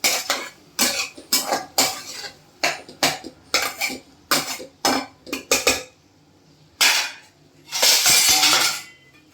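Onion tomato chutney being stirred in a pan, heard as a close series of loud, irregular metallic scrapes and knocks of a spoon against the pan, with short pauses between strokes and no talking.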